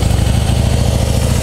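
A 2013 Harley-Davidson Heritage Softail FLSTC with factory exhaust running, a loud, steady low engine rumble with a lumpy, rhythmic idle pulse, close by and alone.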